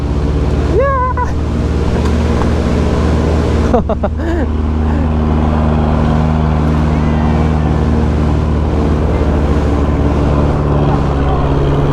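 A jeepney engine drones steadily on a rough road in Batangas, a constant low rumble running the whole time, with a short shout and brief voices near the start.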